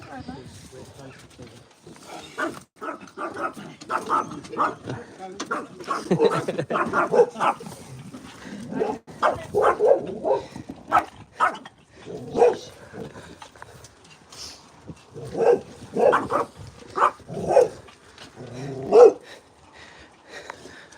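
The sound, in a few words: dogs barking and whimpering on a walk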